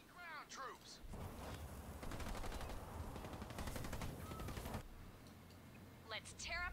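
Rattling small-arms fire from enemy ground troops in the Halo Wars 2 strategy game, a dense burst lasting a few seconds between short game voice lines and chirpy unit effects, moderately loud against a quiet bed.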